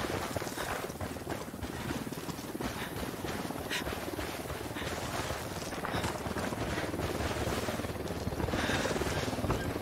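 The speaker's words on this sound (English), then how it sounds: "Who need that chopper?" A helicopter in a video game gives a steady rotor drone with fast chopping pulses throughout, moderately loud and without pause.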